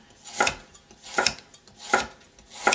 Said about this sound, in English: Next thing is going to be cutting the carrots in julienne style